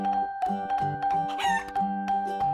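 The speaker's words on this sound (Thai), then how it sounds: "โอ้แม่ไก่สวัสดีจ้า" Farm chickens cluck and crow in a bright, clean sequence of short repeated calls, a rooster-like crow rising in the middle, with a steady tonal background and no talk.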